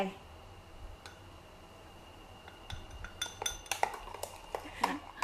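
Grass jelly powder being stirred into water makes quiet scraping at first, then a run of sharp metallic clinks and taps of utensil against a bowl that grows busier toward the end.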